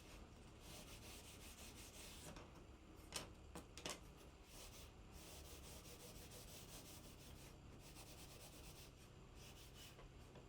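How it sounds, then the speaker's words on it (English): Hand sanding of a wooden drawer pull for a school-built desk, using 150 grit sandpaper: steady, continuous abrasive rubbing and scratching close up, with brief louder scrapes and knocks midway and no talking. "And now for round one of what I believe was 4 different sets of sanding"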